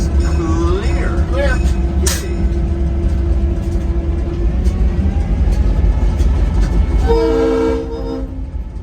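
A train rumbles loudly along as a passenger rides aboard, a constant heavy rolling drone, and near the end its horn sounds with a sustained, bright blast.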